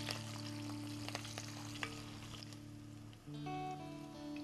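Green chillies and mustard seeds frying in hot oil for bitter gourd palya, giving a steady, soft sizzle with occasional light pops and a faint background hum throughout.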